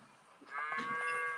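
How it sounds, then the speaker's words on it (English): A single cow moos nearby, a drawn-out tonal low rising to a strong sustained call over a quiet trackside background, with no talking. "spooking the cattle"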